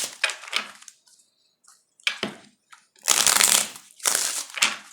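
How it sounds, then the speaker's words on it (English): Tarot cards shuffled by hand in short riffling bursts separated by quiet pauses, close and fairly loud, with a longer rush of shuffling toward the end. "All right, one more shuffle, please."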